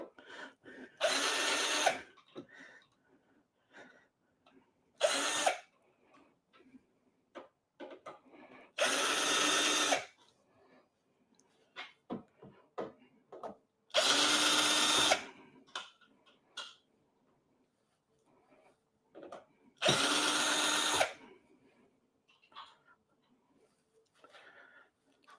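A power drill backs four screws out of the control panel of an AtGames Legends 4KP pinball cabinet, with four separate loud whirring bursts of one to two seconds each. Quiet clicks and handling noises fill the gaps between them.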